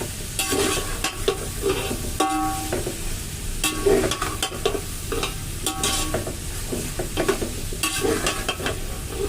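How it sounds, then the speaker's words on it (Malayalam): Chicken majboos masala sautés in a pan: a steady sizzle under repeated scraping and clinking stirs of a spatula against the pan, close and continuous, with no talking. "ചേർത്തിട്ട് നമുക്കിത് നന്നായിട്ടൊന്ന് വഴറ്റിയെടുക്കും"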